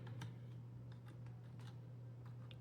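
One-handed typing on a computer keyboard while entering update commands to set up a Raspberry Pi: sparse, quiet key clicks at an uneven pace over a steady electrical hum.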